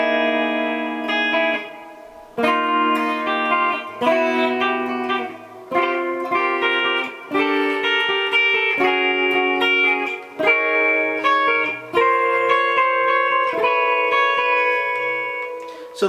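Electric guitar plays a lush chord section, a sequence of sustained, effected chords changing every second or two, clean and reverberant with no voice.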